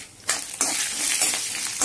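Cardamom and cloves, with peppercorns, frying in a pan on lowered heat as spices for sambar, giving a steady close sizzle broken by a few sharp stirring scrapes.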